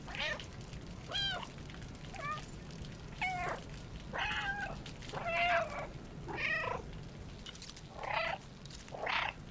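A cat meows repeatedly in short rising and falling calls, roughly one every second, close and fairly clear over a low, steady purring rumble.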